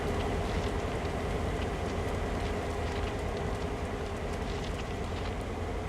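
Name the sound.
train moving in the video game Train Sim World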